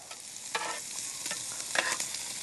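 Chicken thighs for shawarma fry skin-side down in a hot pan, giving a loud, steady close sizzle with occasional sharper crackles and bursts of spatter, and no one speaks.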